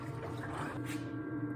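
Steady low rushing and trickling of water circulating through the pipes of a tankless water heater during flushing, with a faint hum underneath, continuous and close.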